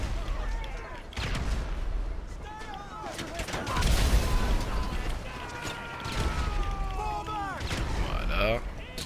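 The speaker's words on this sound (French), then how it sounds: "Donc là vous lancez les grenades, vous en foutez." Grenades go off in a GTA 5 Online firefight as several heavy, booming blasts mixed with gunfire and mechanical clatter, while game voices or talk sit underneath the steady noise.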